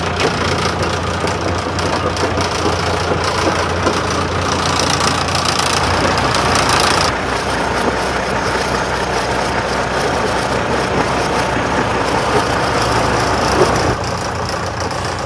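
A steam engine chugs and knocks steadily while being backed up onto a trailer, a loud, continuous mechanical churn with a low rumble throughout and a brief shift in tone midway.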